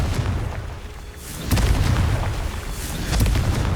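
Confringo fire spell explosions in the Hogwarts Legacy game: two heavy, roaring blasts that each swell and linger over a rushing background, loud and close, with no talking.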